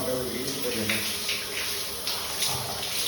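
Hot water pours steadily from a shower tap in a steam-filled washroom, a continuous close hiss and splash with slight fluctuations while someone talks over it.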